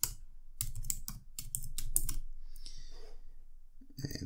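Someone typing an answer on a computer keyboard, a close, quick run of crisp key clicks lasting a couple of seconds, then a softer pause and a final louder tap.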